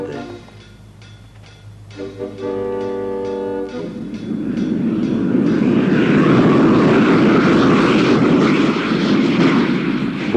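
A US Air Force airplane takes off from an air base in Turkey, its engine starting as a droning hum, then swelling into a loud, sustained roar that fills the rest of the scene.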